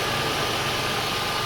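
A Jeep engine runs at idle after an AC line repair, giving a steady, even rumble with a broad hiss over it and no change in pitch through the short stretch.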